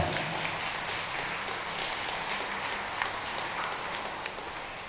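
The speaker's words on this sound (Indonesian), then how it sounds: "Berikan aplaus yang terbaik Anda." A church congregation applauds during a parish gathering, with steady, dense clapping that holds for several seconds and fades slightly near the end.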